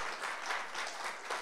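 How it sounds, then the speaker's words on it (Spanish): A church congregation applauds together in a steady, dense burst of clapping that fills the whole moment, with no voices over it. "Un aplauso al Señor."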